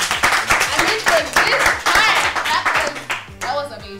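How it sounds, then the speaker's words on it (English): A trivia gameshow audience claps loosely amid loud, excited voices and cheering, with the clapping sitting under the overlapping talk. "A clap, guys."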